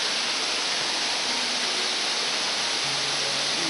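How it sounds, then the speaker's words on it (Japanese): The main waterfall at Akame Forty-eight Waterfalls roars as a constant broad rush of falling water, loud and steady throughout, running low after a spell without rain. "それでもまあここで一番の滝はこちらですね"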